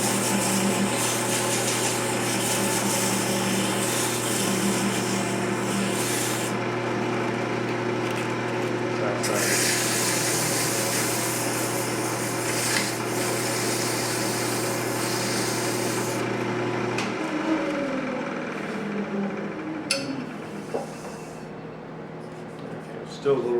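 Sandpaper rubbing inside a wooden goblet spinning on a woodturning lathe, a continuous close scratchy hiss over the lathe's steady hum, with brief changes in pressure and the motor note dropping away near the end.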